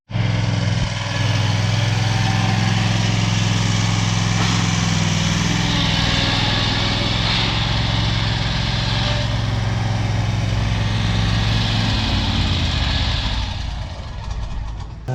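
A 52-inch commercial lawn mower runs steadily at full throttle while mulching grass, with a constant loud, close engine drone that eases off in the final seconds.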